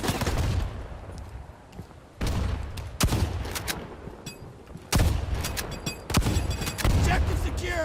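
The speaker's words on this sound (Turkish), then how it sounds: "Hocam yanımda el bombası patladı." Loud bursts of video game gunfire and blasts crackle and boom in quick succession, with a couple of heavy grenade explosions standing out.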